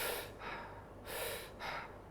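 Someone breathes quickly in and out through the mouth, with four audible breaths alternating between sharp inhales and airy exhales, close and clear with no talking.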